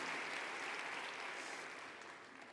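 A church congregation applauds its teachers with steady, dense clapping that fills the room and tapers slightly toward the end, with no voices on top.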